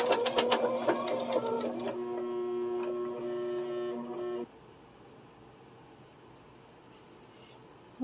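A sewing machine stitches a seam across kitchen towels, giving a steady mechanical whir with quick ticking for about four seconds. It then stops, leaving a quiet room.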